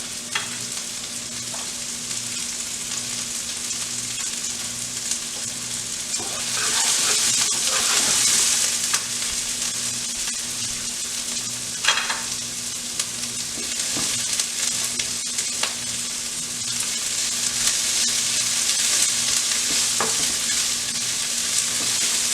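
Vegetables sizzle and crackle steadily while stir frying in a hot pan, with occasional stirring scrapes and swells of louder frying, no voices.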